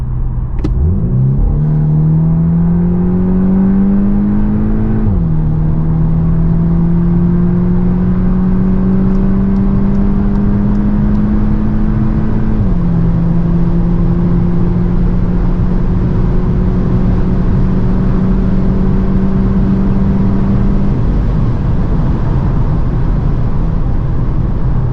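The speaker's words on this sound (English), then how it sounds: "it's now time to see how fast the car goes 100 to 200 on the Autobahn" A 300 hp Volkswagen T-Roc R Facelift pulls hard from 100 to 200 km/h on the Autobahn, its engine tone climbing steadily through a few gear shifts over constant road and wind roar, loud and close with no talking.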